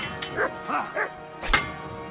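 A dog in the medieval game Kingdom Come: Deliverance II gives a few short, close yips and whimpering barks spaced irregularly over a couple of seconds.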